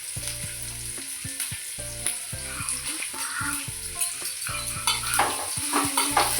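Ginger and garlic fry with a steady sizzle in hot oil for a naati chicken curry, with irregular scraping stir strokes of a spoon against the pan and tonal music playing throughout.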